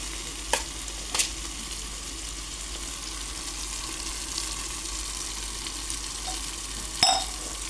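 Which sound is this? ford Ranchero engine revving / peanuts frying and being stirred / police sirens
peanuts frying and being stirred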